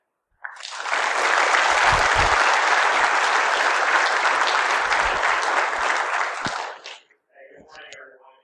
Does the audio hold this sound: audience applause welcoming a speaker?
yes